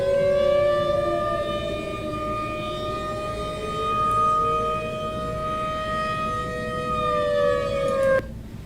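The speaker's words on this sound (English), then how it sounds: "This is what a tornado siren, or outdoor siren, it's kind of the same thing, sounds like." An outdoor tornado siren wails steadily and loud, its rising and falling tone holding for about eight seconds before cutting off abruptly near the end.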